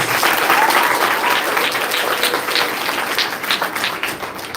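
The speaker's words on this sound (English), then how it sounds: "So can you please give your parents a big round of applause?" Audience applause at a Year 6 girls' transition ceremony at a school, a loud, close, dense round of clapping from parents and guests that gradually thins toward the end.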